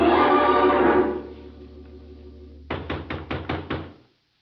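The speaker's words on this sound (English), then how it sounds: "There was no answer to my knock." Knocking on a wooden hut door as a radio drama sound effect: after a fading musical sting, five or six firm, evenly spaced raps sound close and clear, then stop into silence.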